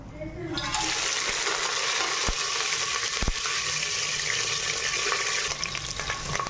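Whole spices hit hot oil in a pressure cooker and set off a loud, steady, close sizzle that holds for several seconds, with a couple of brief knocks partway through.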